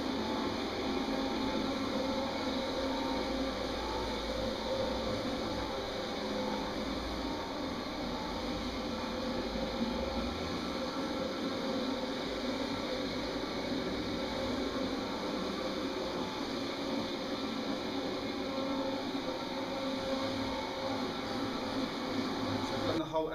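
A low moisture commercial carpet cleaning machine runs continuously with a steady, even mechanical hum and whir, close and loud throughout, with a voice speaking over it.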